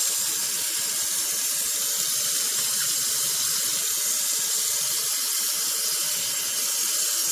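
A steady, loud stream of tap water runs into a bowl for microwave ramen, a continuous close splashing rush with no pauses and no voices.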